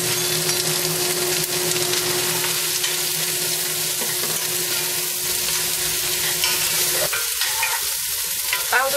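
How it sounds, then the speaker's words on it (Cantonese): Potatoes stir-fried in a pan for a potato and chicken dish, a steady loud sizzle and frying crackle with scraping stir strokes throughout, no talk. "爆到啲薯仔咧轉金黃色啦"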